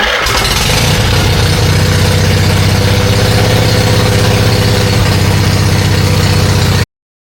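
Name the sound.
Onan Emerald generator engine running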